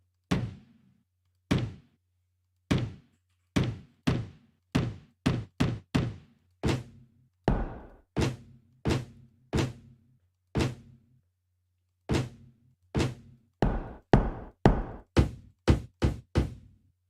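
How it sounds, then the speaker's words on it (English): Stomp-type kick samples from a Boots and Claps pack play one after another, each a dry, punchy thump with a short tail, spaced irregularly and speeding into a quick run near the end. "it has sounds like this that are like basically stomp type sounds."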